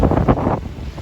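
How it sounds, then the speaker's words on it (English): Strong gusting wind buffets the microphone on a small island in St. Augustine, Florida, after a rough kayak crossing, a loud continuous low rumble with surging gusts and no talk. "The paddle over was really rough because it's super windy."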